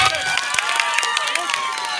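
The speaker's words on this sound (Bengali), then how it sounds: "ওনাদের জন্যে জোরে করতালি হবে" Applause and cheering from an audience at a school cultural programme, a dense burst of clapping mixed with raised children's voices, loud and close throughout.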